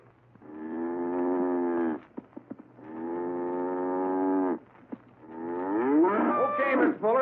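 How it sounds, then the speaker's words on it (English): Cows bedded down for the night moo in three long, loud, drawn-out calls, each a second or two long with short pauses and small knocks between them, set against a quiet background. "Cows bedded down for the night."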